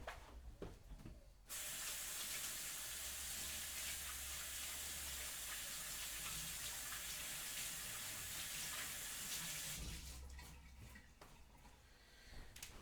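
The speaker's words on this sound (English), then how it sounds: "I'll wash my hands real quick" A kitchen tap runs in a strong steady spray for several seconds while hands are rinsed under it, with faint handling noises before and after.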